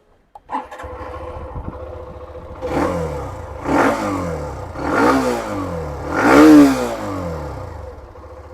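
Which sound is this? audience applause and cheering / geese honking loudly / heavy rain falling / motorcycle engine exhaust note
motorcycle engine exhaust note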